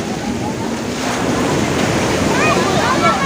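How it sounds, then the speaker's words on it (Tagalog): Strong wind roars into the microphone over the steady wash of open water and waves, loud and continuous. "Malakas yung hangin"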